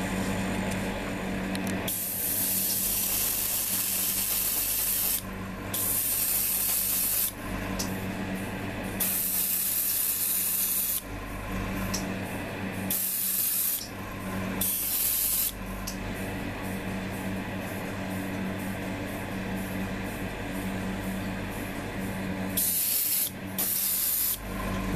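Airbrush or spray can misting touch-up paint onto the underside of a Hasegawa 1:72 F-4EJ Phantom II model kit: a steady close hiss in repeated bursts with short pauses between.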